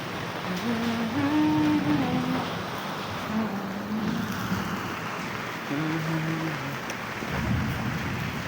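Heavy rain with thunder falling steadily outdoors, a dense wash of patter that stays loud throughout, with low rumbles underneath and faint tonal voice-like sounds drifting in and out.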